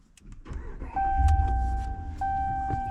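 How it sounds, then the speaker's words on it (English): A RAM 1500 pickup truck starts up: a brief starter crank settles into a steady engine idle, with chimes and a faint click heard up close, and no talking. "Starting the truck back up."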